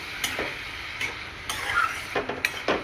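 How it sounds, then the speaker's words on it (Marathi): Stuffed bitter gourd curry being stirred in a pan with a little jaggery, soft sizzling under a handful of spaced scraping and clinking strokes of a spoon against metal. "आता याला छान असं मिक्स करून घ्यायचं आपल्याला"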